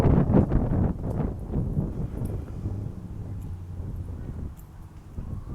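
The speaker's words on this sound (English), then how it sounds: "the wind's blowing like crazy" Strong wind gusts through an outdoor park and buffets the microphone with a heavy, continuous low rumble that swells and eases, loud and near, with no clear voices.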